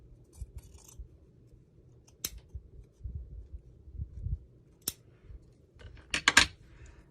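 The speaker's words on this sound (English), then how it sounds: "I'm gonna cut this trim off." Scissors snip trim off a piece of fabric in a quiet room, a few sharp isolated clicks and rasping cuts spread out, ending in a quick cluster of snips near the end, close with no voices.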